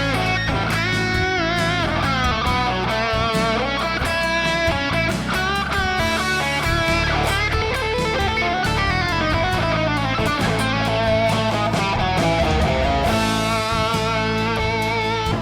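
A dense, fully mixed backing track, played through Lava Plus, with steady beat, bass and layered melodic instruments, loud and continuous throughout without speech.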